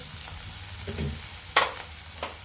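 Ridge gourd thecha sautés in a pan as turmeric is added, giving a soft, low sizzle with a few brief scraping stir sounds and one sharper clatter, with no voices.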